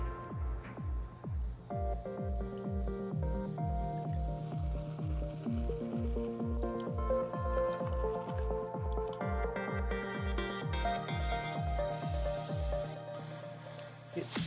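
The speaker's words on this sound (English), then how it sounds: "And we are going to pan this out." Paydirt from a toolbox sluice being swirled in a small gold pan, with steady rhythmic sloshing of water and gravel repeating about twice a second, close and continuous with a faint musical tone in the background.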